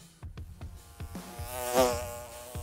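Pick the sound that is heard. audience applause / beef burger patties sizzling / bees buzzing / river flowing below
bees buzzing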